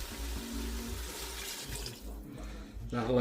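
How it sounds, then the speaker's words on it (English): Water pouring from a cup into a pot of beef stew on the stove, a soft continuous splash under steady low background hum, brief and close. "Put the water in now."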